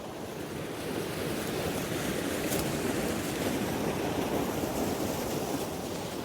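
A series of waterfalls rushing in a gorge, heard as a broad, steady roar of water with wind buffeting the microphone, constant and fairly loud throughout, no talking.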